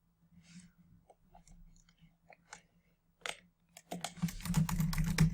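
Scattered key taps on a computer keyboard, soft and irregular, followed by a louder burst of rapid typing mixed with a low hum.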